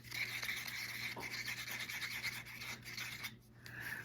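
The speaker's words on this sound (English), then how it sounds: "So I just scrape down the sides real good." Metallic paint is scraped down the inside walls of a small paper bathroom cup, giving a close, soft, continuous rubbing and scraping that fades briefly near the end.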